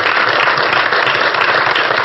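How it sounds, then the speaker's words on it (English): Loud, dense applause from a large crowd, steady and sustained throughout with no voices over it. "let's give him a round of applause"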